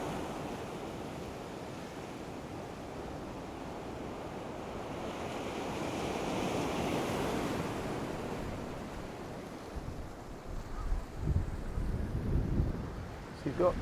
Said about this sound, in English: That wind's kicking up a bit of a swell here.